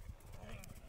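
A horse's hooves clip-clop in a short burst of uneven beats, set against steady background noise in a rural Alai setting.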